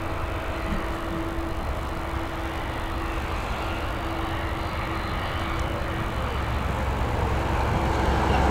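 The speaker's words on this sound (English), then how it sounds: "This A320 now lined up. She's not lined up, she's up and away." An Airbus A320 taking off from runway 28R at Dublin Airport, a steady broad engine roar held at a distance that swells slightly toward the end, with no talk.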